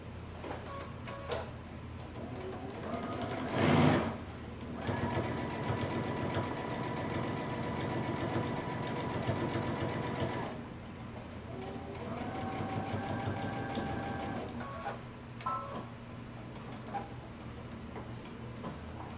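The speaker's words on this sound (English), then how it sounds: "we're going to sew along the very edge here of this folded edge" A sewing machine runs in steady bursts of rapid ticking stitches along the folded edge of fabric, pausing briefly between runs, close and even with a soft motor hum underneath.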